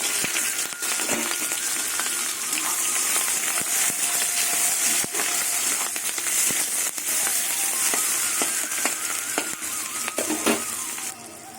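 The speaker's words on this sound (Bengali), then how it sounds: "তেল গরম হয়ে গেছে এখানে পেঁয়াজ আর কাঁচা লঙ্কা আছে দিয়ে দেবো" Onion and green chili sizzle and crackle loudly in hot oil, a dense continuous frying hiss with scattered sharp pops throughout, close and steady, with no talking.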